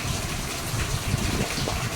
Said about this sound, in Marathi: नळाचा आवाज यायला लागलाय